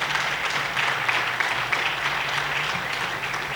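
Steady audience applause from young people at a Congolese gathering, a continuous even wash of clapping throughout, fairly loud and close.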